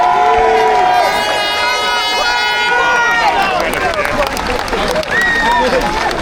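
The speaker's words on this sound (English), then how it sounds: "Give him all a round of applause" Crowd at a street protest outside Southampton Central Police Station cheering and applauding, a loud sustained roar of voices with shouts and whistles over clapping, fading slightly toward the end.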